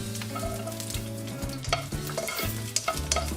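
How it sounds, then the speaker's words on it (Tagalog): Red onion sears in a hot pan for a mushroom dish, giving a steady close sizzle with scraping stirs and a few sharp spatula knocks toward the end, and no voices. "Next, i-seared naman natin yung red onion."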